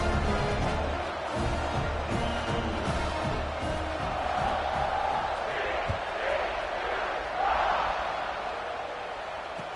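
A dense stadium crowd in the College Football 26 video game roars steadily before a kickoff, with swelling cheers and a commentator talking over the noise.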